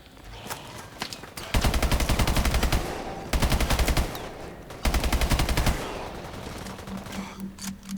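Rapid automatic gunfire from the video game Call of Duty: Advanced Warfare, Exo Zombies mode, in three loud sustained bursts separated by brief gaps, with quieter game sounds between them and no talk.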